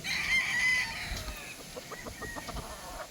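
Breeder pullet chickens cluck and squawk close by in a farm setting, a high cry near the start followed by a run of short, rhythmic clucks.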